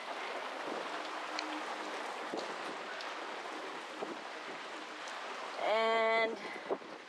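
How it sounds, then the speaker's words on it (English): Light rain patters softly and steadily on a sailboat, with a brief tonal beep near the end. "oh, it's raining."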